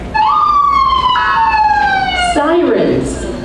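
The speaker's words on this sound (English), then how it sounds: "Sirens, flashing lights" Police car siren in a news report, a loud close wail that sweeps downward before giving way to a short burst of a different tone at the end.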